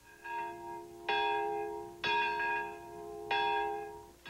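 Bells tolling at the Nagasaki atomic bomb memorial service near Ground Zero, several resonant strikes spaced about a second apart, each ringing out and fading, fairly faint and alone.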